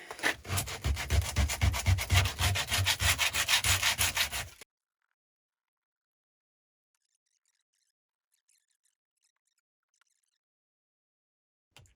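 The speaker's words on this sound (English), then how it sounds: "you can remove the glue fairly easy and quickly" Old glue is rubbed and scraped off a Dope Grip with a rapid, rhythmic back-and-forth scratching close up for about four seconds, then stops abruptly into near silence broken by a couple of tiny ticks.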